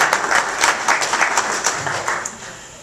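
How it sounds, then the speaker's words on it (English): A crowd applauds at a political Tea Party speech, loud close clapping with distinct individual hand claps standing out in the texture. "give yourselves a round of applause"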